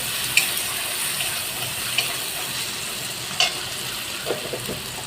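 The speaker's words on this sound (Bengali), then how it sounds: "মশলাটা ভালোভাবে আমি কষে নিচ্ছি" Spice masala for niramish ghughni sizzles steadily in a pan, with occasional clinks and scrapes of a spoon stirring it close by; no voices.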